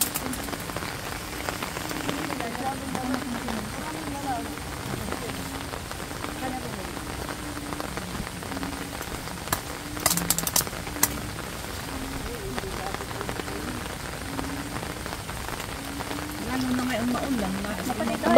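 Heavy windless rain from typhoon Aghon pours as a dense, constant hiss of drops on surfaces, loud and unbroken, with muffled voices low underneath.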